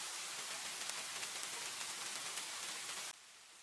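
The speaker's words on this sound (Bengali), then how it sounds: "এখন কিন্তু মুসলধারে বৃষ্টি হচ্ছে" Steady, dense hiss of heavy monsoon rain pouring down throughout on a trek from Jaflong to Bichanakandi, dropping slightly in level near the end; no voices.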